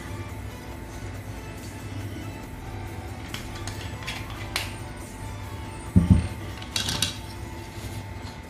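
Suya spice ingredients being mixed with olive oil in a bowl produce soft scraping and stirring, with a few sharper clinks of a spoon against the bowl near the end.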